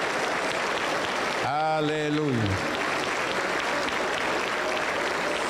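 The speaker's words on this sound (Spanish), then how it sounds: "Aplauso para Cristo Jesús." Applause from a Pentecostal church congregation fills the whole stretch as a steady wash, while a voice shouts over it briefly near the start.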